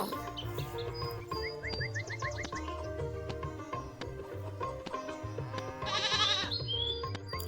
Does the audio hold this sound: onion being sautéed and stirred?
no